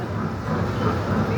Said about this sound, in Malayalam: ലുലുമാൾ ടു കൊച്ചി ട്രെയിനിലാണ് ഇപ്പോൾ നമ്മളുള്ളത്